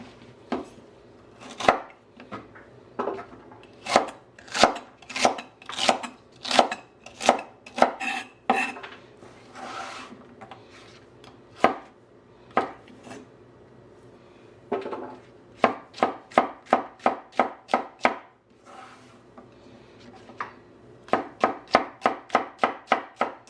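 A kitchen knife chops okra on a cutting board, trimming off stems and ends: a close run of sharp, evenly spaced cuts in bursts, with short pauses between batches and no talking.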